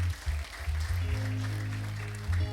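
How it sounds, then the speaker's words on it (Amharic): Church congregation clapping in praise, a short burst of rhythmic group applause over sustained music, loud and close. "አጨብጭቡ ለጌታ።"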